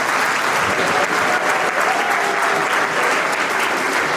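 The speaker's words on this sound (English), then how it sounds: "Delegates, please give them a big round of applause." Delegates at a Model United Nations closing ceremony give a loud, continuous round of applause, an even, dense roar of clapping filling the hall without pause.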